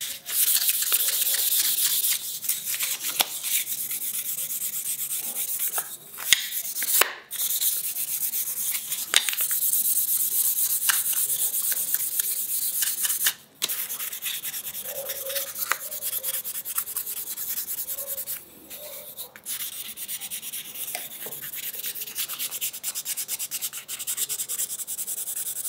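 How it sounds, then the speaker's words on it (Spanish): Fine 1500-grit sandpaper rubs over a hand-carved walnut wood spoon in a continuous soft, hissy scratching, close and steady with brief pauses, no speech. "por último voy a pasar lija 1500"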